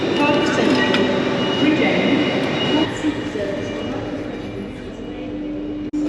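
Continuous rumble and hum of a London train, close and steady, with a brief dip and a sharp click near the end.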